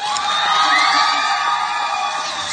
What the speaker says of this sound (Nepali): ताली बजाइदिउँला कृपया, ताली बजाइदिउँला